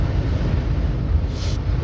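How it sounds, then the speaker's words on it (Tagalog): Strong wind blowing at the seaside, a steady loud roar buffeting the microphone throughout, with low rumbling gusts and no speech. "Sobrang hangin siya guys. Naririnig nyo? Grabing hangin."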